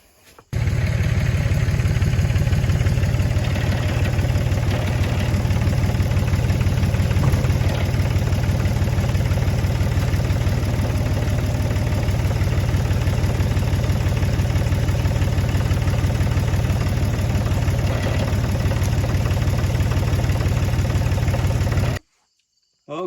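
Farm tractor engine idling close by during hay wagon repair work, a loud, steady mid-pitched chug that runs unbroken for about twenty seconds before cutting off abruptly.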